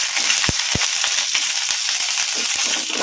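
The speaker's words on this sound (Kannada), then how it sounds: "ನಾವು ಕಟ್ ಮಾಡಿ ಇಟ್ಟಿದ್ವಲ್ಲ ಹಸಿಮೆಣಸಿನಕಾಯಿ, ಈಗ ಇವನ್ನು ಹಾಕೋಣ ಎಣ್ಣೆಗೆ." Cut green chillies frying in hot oil on a medium flame, a loud, steady close sizzle and hiss broken by sharp pops and crackles.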